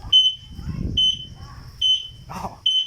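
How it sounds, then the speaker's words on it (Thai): The turn signal of a small electric vehicle with a light fiberglass body and roof beeps in a steady rhythm, with four sharp electronic bleeps spaced evenly. Faint rustling and a brief low murmur sit underneath. "อันนี้เป็นระบบไฟเลี้ยว"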